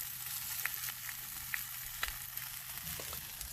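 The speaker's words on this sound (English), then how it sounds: "It is still sizzling." Food sizzling steadily in a pan at a night campsite, a continuous close frying hiss with occasional sharper pops and crackles, no voices.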